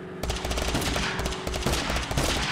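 Rapid automatic gunfire in the video game Totally Accurate Battlegrounds, loud bursts of shots rattling close together for a couple of seconds.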